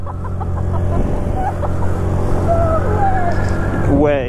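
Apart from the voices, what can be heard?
Honda Navi scooter accelerating at wide open throttle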